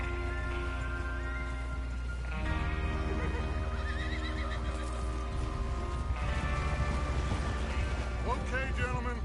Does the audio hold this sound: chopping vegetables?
no